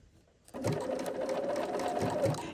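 A sewing machine stitches a blind hem, its needle swinging side to side to catch the main fabric. A steady, close mechanical whir starts abruptly after a brief quiet moment and runs on evenly, with no voices.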